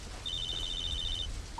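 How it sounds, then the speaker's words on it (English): A telephone ringing in a Halo ODST recreation built in Unreal Engine 5, a single thin electronic trill repeating rapidly for about a second over low game ambience, with a brief tone at the very end. "Just got another phone call."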